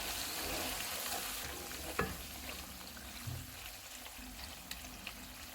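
Mutton being stirred with milk in a cooking pot on a lowered flame, a soft continuous sizzle with occasional spoon scrapes and knocks against the pot.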